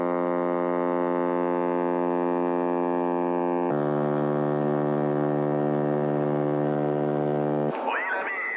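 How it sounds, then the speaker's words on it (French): A ship's foghorn sounds a long, loud, steady harmonic blast as a salute while leaving port, dropping to a lower pitch about halfway through before cutting off, followed by faint background noise. "on croise le navire Mostefa Ben Boulaïd qui, selon les us et coutumes de la marine, nous salue avec sa corne de brume"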